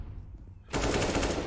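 Rapid automatic gunfire in Counter-Strike: Global Offensive bursts in suddenly after a quiet stretch, a dense, loud volley that keeps going to the end.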